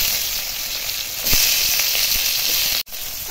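Mango pieces hit hot mustard oil tempered with mustard seeds and dried red chilli, a loud close sizzle and crackle with small pops and stirring, cutting off abruptly near the end.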